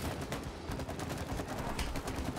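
Rapid bursts of gunfire in the co-op video game It Takes Two, a dense, steady volley of repeated shots filling the clip at close range with no voices.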